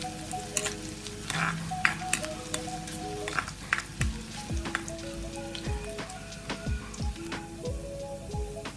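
Ginger and coconut pieces frying in a pan, a continuous close sizzle with bursts of crackling and spattering, plus a few stirring scrapes and clinks over about nine seconds.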